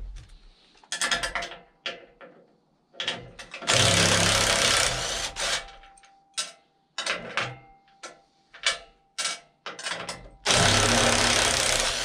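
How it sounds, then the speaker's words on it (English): An impact driver bolts a sawmill trailer extension, with repeated loud bursts of rapid hammering rattle, some short and some sustained for a second or more, separated by brief pauses, close and outdoors. "So I'm using an impact driver here just to make things fast"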